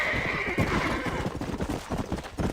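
A horse in the Western video game Red Dead Redemption gives a loud whinny, then trots off with a quick, uneven clip-clop of hooves close by.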